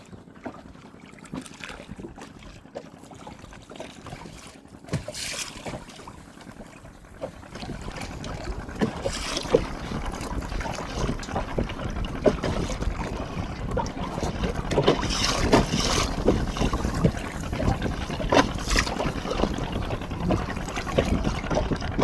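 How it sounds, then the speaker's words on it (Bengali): A distant cargo boat moves along a river in hot weather, its low engine rumble and water wash building gradually and growing louder toward the end, with wind across the open water and no talk. "দূরে যে মালবাহী বোটটা যাচ্ছে"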